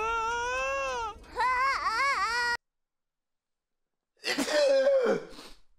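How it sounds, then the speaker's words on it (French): A cartoon-style voice lets out one loud, voiced sneeze after a brief silence, following a stretch of whiny, crying-like vocal sounds, set in freezing cold. "il fait tellement froid, les gars, que j'ai éternué"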